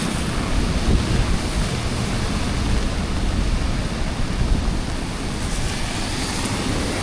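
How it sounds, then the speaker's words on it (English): Torrential wet-season rain and strong wind in Da Nang batter an outdoor microphone, making a dense, continuous roar and rumble that stays loud and unbroken throughout. "don't know if the rain and the winds affect my mic too"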